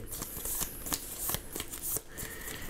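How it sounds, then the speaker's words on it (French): Path cards for a Lord of the Rings card game being shuffled by hand, a quick series of close, crisp riffling flutters and slaps in short bursts, with no talking. "Je vais les mélanger"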